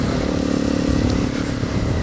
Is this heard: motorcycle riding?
yes